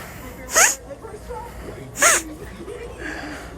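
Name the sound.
sneeze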